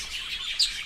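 A budgerigar being hand-fed gives a short run of soft, high chirps with one brighter tweet near the end, close and alone without any talk.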